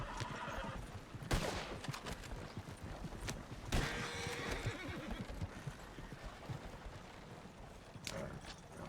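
Horses in a RedM roleplay video game, several spooked animals neighing and whinnying with clip-clop hoofbeats, sharp loud calls standing out from steady background movement, no talk.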